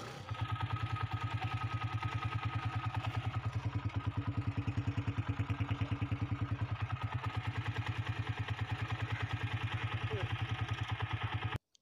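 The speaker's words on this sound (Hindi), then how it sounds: "अभी हमने किक बाइक को लगाई है तो बाइक अभी स्टार्ट खड़ी है" A Honda CG-125 motorcycle engine idles steadily close by after a kick start, a rapid even chugging throb that runs unchanged for several seconds and then cuts off abruptly.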